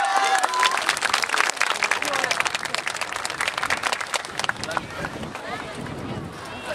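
An audience claps rhythmically along at the start of a yosakoi dance performance in Kyoto, crisp, quick handclaps close by that thin out and fade toward the end, with a few voices mixed in.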